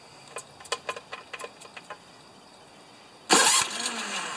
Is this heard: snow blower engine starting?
yes